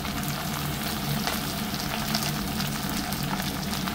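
Eggplant with green chillies frying in hot oil for a dried-fish dish, a continuous close sizzle with light stirring noises and no talking.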